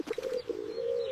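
A pigeon coos in a steady, soft low warble with a few short pulses at the start, running continuously for about a second, close and alone without talk.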